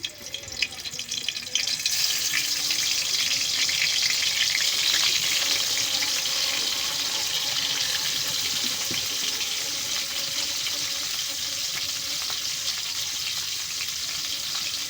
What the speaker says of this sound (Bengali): মাছগুলো আমি একটু হালকা হাতে ভেজে নিচ্ছিলাম।